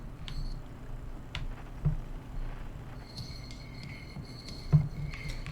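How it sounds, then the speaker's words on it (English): Spaceship interior sounds in the video game Outer Wilds: scattered mechanical clicks, ticks and light tapping with a couple of soft thumps, set over a low steady background rumble. "This is what a ship sounds like, apparently."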